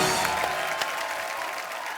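Studio audience applauding on a Hindi TV comedy show as guests are welcomed, a dense, steady wash of clapping lasting throughout at even loudness with no voices on top.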